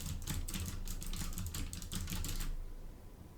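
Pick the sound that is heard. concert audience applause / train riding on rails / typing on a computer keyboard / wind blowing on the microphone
typing on a computer keyboard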